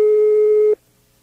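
A telephone ringing tone sounds on a call line as a single loud, steady electronic beep lasting under a second, then cuts off to near silence.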